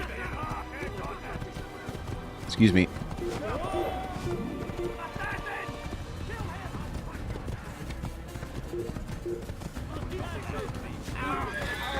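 Rhythmic hoofbeats of a galloping horse with a brief whinny in the video game Assassin's Creed, under a person talking and a busy game-like background.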